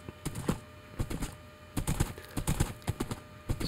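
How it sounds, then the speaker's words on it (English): Hooves of a ridden horse in Minecraft clip-clop in quick, uneven clusters along a road, fairly close and light, with brief pauses between bursts and no talking. "I brought a horse along so we can take a nice ride along the road here."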